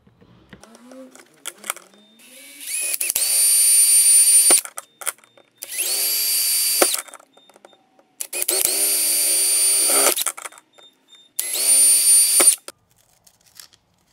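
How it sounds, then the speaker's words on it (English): A power drill with a 5/16 bit drills holes in four separate bursts of a few seconds each, loud and close, with short quiet gaps between. "I'm going to use the 5/16 drill bit and"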